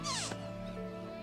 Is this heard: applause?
no